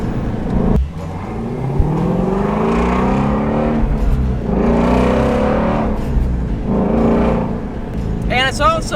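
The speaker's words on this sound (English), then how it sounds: "you can get some attention by simply just rev match downshifting" A car engine revs sharply during a rev-match downshift, rising and falling in several loud, close blips against a steady driving hum, with a short whine near the end.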